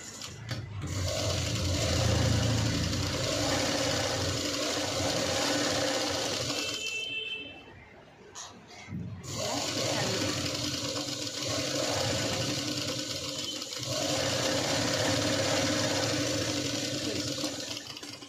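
A sewing machine stitches cut work on a V-neck blouse, a loud, fast, continuous mechanical whir that pauses briefly midway and then resumes.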